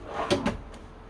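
Soft-close drawers on runners in a 1978 Millard Mini Pop Top caravan fit-out slide open and shut, two close muffled thumps with a short rolling swish, then a fainter third bump.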